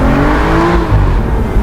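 A 2012 Aston Martin Virage Volante V12 revs hard close by, a loud, dense engine roar that climbs in pitch and then falls back through a single rev lasting under two seconds.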